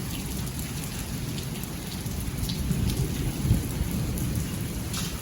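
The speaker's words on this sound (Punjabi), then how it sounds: "ਸੁੱਕੇ ਗੜੇ ਪੈਣ ਲੱਗ ਗਏ ਆ" Dry hail with little rain comes down on a courtyard in a dense, steady rattle and patter that swells slightly midway, heard outdoors without any talking.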